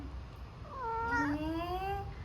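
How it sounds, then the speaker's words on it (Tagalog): A pet cat lets out a drawn-out, rising and falling meow, fairly soft and close, alone against a quiet room. "Ang baby naming pusa."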